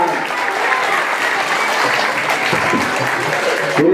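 An audience at a school recreational games inauguration claps continuously, a dense, loud wash of applause throughout with some voices underneath.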